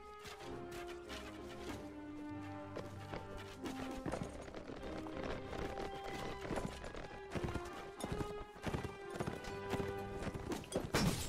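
Horse hooves clip-clop in a fast, continuous patter over steady background music, with an occasional whinny, in the video game Mount & Blade: Warband on PS4.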